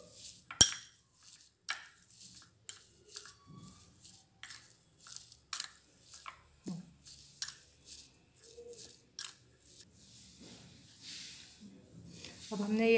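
A spoon mixes methi paratha stuffing in a bowl with a series of light clinks and soft scrapes at irregular intervals, faint and close, with quiet pauses between them.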